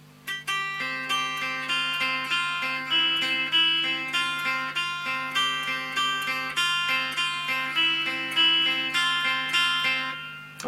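Slow guitar intro to a song, a steady run of picked notes ringing over a held drone, evenly paced and clear with no voices.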